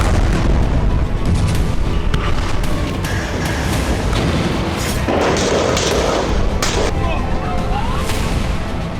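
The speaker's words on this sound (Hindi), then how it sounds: "आईडीएफ खान यूनिस पर गोला बारूद बरसा रही है।" Heavy artillery shelling and explosions pound Khan Younis in Gaza, a dense, continuous low rumble of booms and blasts with several sharper bursts standing out, loud and sustained throughout.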